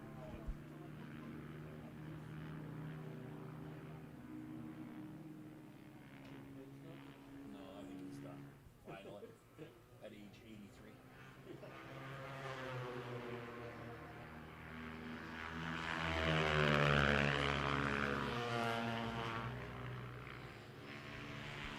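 Kawasaki racing snowmobiles drone around a snowy racetrack at a power toboggan championship, a sustained high engine whine that swells as machines pass nearby, with a commentator talking over it.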